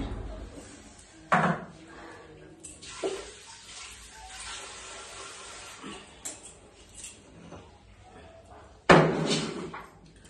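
A heavy stone grinding slab for crushing spices is lifted and set down in a home kitchen, giving two sharp, clattering knocks spaced well apart, with someone talking softly between them.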